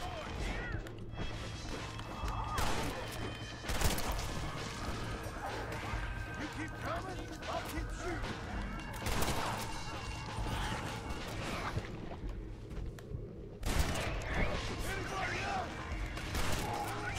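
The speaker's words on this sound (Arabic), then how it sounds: "شوف شوف انفجر معاه قنبلة اقول لك" Explosions and crashing blasts in Red Dead Redemption: Undead Nightmare boom out in a few heavy bursts amid ongoing game noise, while someone talks excitedly over them.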